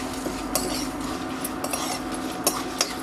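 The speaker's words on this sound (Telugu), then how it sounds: "ఇప్పుడు మొత్తం అన్నిటిని బాగా వేయించుకోవాలి" Dry red chillies and spices roast in a pan for a chicken pickle, with a steady low sizzle broken by a few sharp clinks of a metal spatula against the pan.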